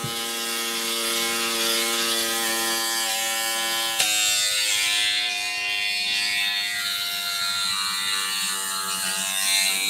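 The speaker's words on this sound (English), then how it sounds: "So I'm just going to go ahead and start shaving." A plugged-in old electric shaver buzzes close and loud in an unbroken, tonal hum, with a single sharp click partway through while the motor keeps droning.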